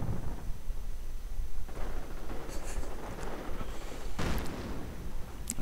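Mortar rounds boom in a World War II-style strategy video game as airborne troops come under fire: two or three dull, rumbling blasts over a continuous loud battle din, no speech.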